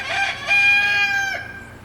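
A rooster crows loudly and close by, one long drawn-out call that rises, holds, and tails off, with no talking.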